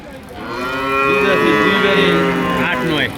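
A Friesian dairy cow at a busy cattle market lets out one long, loud, close moo that rises and holds for about three seconds before cutting off.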